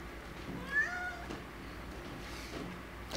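A house cat gives a single drawn-out meow close by in a quiet room, followed by softer faint chirps and rustles, with no talking.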